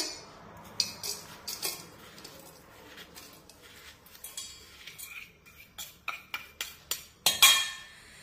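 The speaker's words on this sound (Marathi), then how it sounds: "आता हा गूळ या पातेल्यामध्ये टाकूया" Pieces of jaggery drop and clatter into a metal pot, a series of light, uneven clinks and taps up close.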